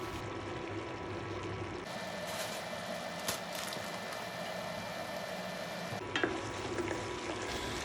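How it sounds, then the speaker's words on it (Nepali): Sticky honey garlic sauce for chicken strips stirred in a pan over low heat, a steady soft bubbling sizzle with faint scraping, continuous and close, with no talking. "यसलाई चाहिँ हजुरहरूले लो हिटमा चाहिँ चलाउँदै पकाउँदै गर्नुपर्ने हुन्छ।"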